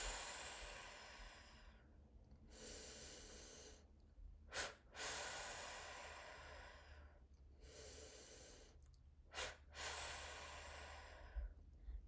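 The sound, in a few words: short sharp breaths out during breathwork exercise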